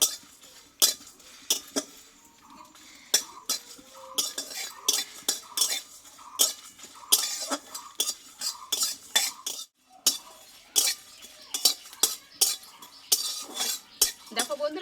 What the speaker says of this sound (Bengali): এক চামচ মতো মৌরি বন্ধুরা এটা আমি শুকনো খোলায় একটু ভেজে নেবো